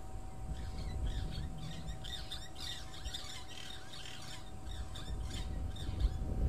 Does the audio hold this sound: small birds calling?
yes